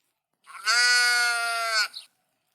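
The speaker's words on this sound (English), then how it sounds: "Sheep." A sheep bleats once, a loud, drawn-out wavering call lasting over a second, heard clearly on its own with no other sounds.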